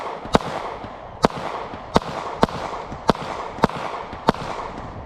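Pistol shots from a Smith and Wesson M&P 40, SD40VE or Glock 23 at a target range, seven sharp cracks fired at an uneven, steady pace over a constant background hiss, with no voices.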